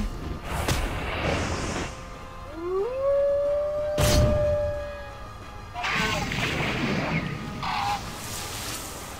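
Howl ability cast during a turn-based pet battle in a video game tournament, heard as a long, clear rising-then-held tonal howl over a busy bed of game effects and booms.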